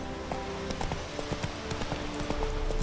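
A horse's hooves clip-clop in The Witcher 3 video game, a steady rhythmic series of hoofbeats over ambient game sound and a faint background tone.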